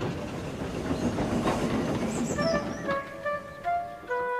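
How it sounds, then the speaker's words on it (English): A diesel train engine pulls away with empty coaches, a rolling rumble and clatter of rail wheels at moderate distance, joined partway through by sustained whistle-like tones and light hiss as it departs. "the diesel left with his empty coaches"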